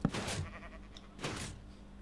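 Sheep from the video game Funny Rail bleating twice, two short, bright, wavering calls about a second apart, close and clear.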